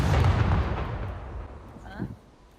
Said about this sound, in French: ils ont peut-être explosé des mines